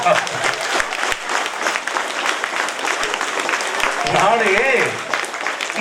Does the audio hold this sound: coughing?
no